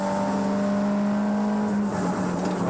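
A Nissan race car at the 1987 Bathurst 1000 screams under hard acceleration, its loud, steady engine tone rising and then dipping briefly as it shifts up through the gears.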